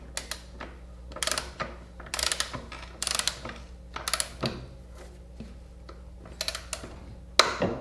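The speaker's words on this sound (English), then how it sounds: "once I hit that level, you're going to hear a loud click" A torque wrench tightens a fastener on a Yamaha Tracer/FJ09 motorcycle during a tire change: a series of sharp, close ratcheting clicks in bursts, ending with a louder, distinct click.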